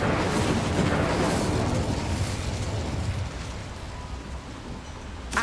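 A Bombarda blast spell in Hogwarts Legacy erupts as a loud, broadband explosive roar that fills the opening seconds, then slowly decays into a rumbling, crackling tail with a small burst near the end.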